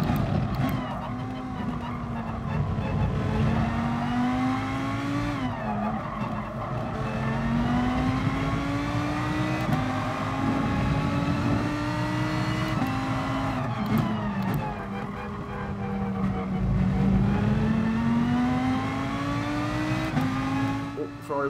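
Ferrari race car engine in GT Sport revving hard through repeated gear changes, pitch rising and dropping in cycles with skids and other cars close by, loud and continuous, with a voice talking over it at times.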